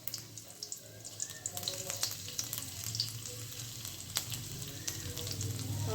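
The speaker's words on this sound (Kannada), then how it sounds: "ಅದಕ್ಕಾದ್ಮೇಲೆ ಬೆಳ್ಳುಳ್ಳಿ ಮತ್ತು ಶುಂಠಿನ ಸಣ್ಣ ಸಣ್ಣ ಚೂರುಗಳಾಗಿ ಮಾಡಿಕೊಂಡು ಹಾಕ್ತಾಯಿದ್ದೀನಿ" Chopped garlic and ginger sizzle steadily in a spoonful or two of hot oil in a home kitchen pan, a close, continuous crackling frying hiss that grows slightly louder toward the end.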